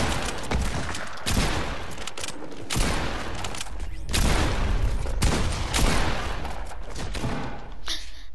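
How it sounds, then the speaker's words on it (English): Pump shotgun fire in the Fortnite video game, with repeated loud, booming blasts and dense gunfire bursts one after another that fill the whole stretch. "I shoot this down with my pump, which takes really long"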